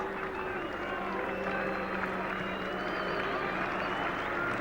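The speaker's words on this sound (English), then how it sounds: "Boos echoing from the crowd." Crowd at an England v Australia Test cricket match at Edgbaston in 1981 reacting just after a wicket falls, a sustained, even wash of distant crowd noise with a faint low booing drone running throughout.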